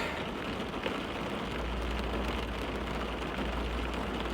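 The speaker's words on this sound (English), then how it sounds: "so it's raining" Rain falls in a dense, steady hiss close by, with a constant low rumble beneath it and no voices.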